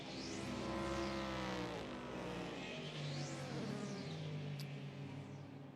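Race cars at the 2016 IMSA 12 Hours of Sebring at night, heading toward turn 3: engines drone and whine, with several cars sweeping past in rising and falling pitch against a steady distant roar.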